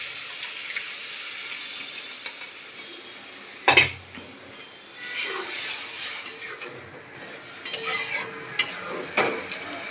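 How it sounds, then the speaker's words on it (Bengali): Boiled masoor lentils are poured into a pan of frying onion, garlic, tomato and chilli, starting with a sharp clatter and splash, then a wet sizzle with scattered utensil clinks and stirring. "এবার ডালটি ঢেলে দেবো।"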